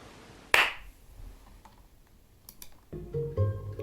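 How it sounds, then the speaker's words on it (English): A single sharp hand clap stands out clearly in a quiet room. It is followed by faint taps, and then a soft tune begins. "a clap"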